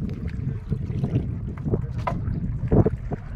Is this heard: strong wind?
yes